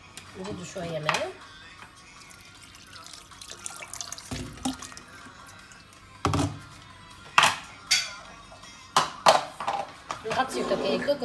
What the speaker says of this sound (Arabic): نزيدوا شويه ماء.